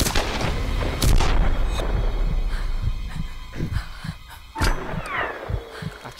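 Grenade launcher shots in the Tomb Raider game: several heavy, booming thuds and blasts in irregular succession, loud and close, with one strong burst early and more scattered impacts after.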